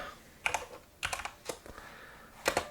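Keys on a computer keyboard are typed in short irregular bursts of a few clicks each, close and crisp, with quiet pauses between them and no voices.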